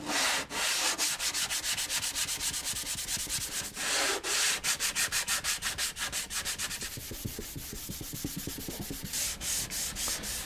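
A pore-filled rosewood guitar back is sanded by hand with 320-grit sandpaper in fast, steady back-and-forth strokes. The rasping is close and loud, continuous and rhythmic, with no voices.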